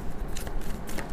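Tarot cards being shuffled in a short burst of papery riffling and flicking, close and fairly quiet, with no voice over it.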